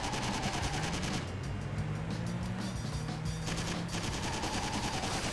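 Rapid gunfire from the video game Driver 3 crackles in dense bursts over a steady roar of engine and traffic noise, continuous and loud throughout with no talking.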